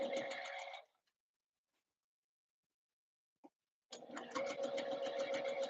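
Sewing machine running a short stitch length on the first layer of a Christmas dress, buzzing close and steady in two runs separated by a quiet pause with a single small click.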